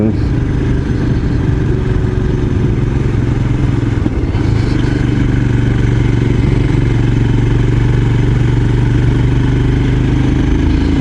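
A Royal Enfield Scram 411 motorcycle climbs a hill, its single-cylinder engine droning steadily and loudly close by, with a continuous low rumble and mechanical clatter throughout.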